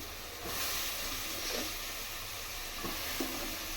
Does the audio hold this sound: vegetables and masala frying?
yes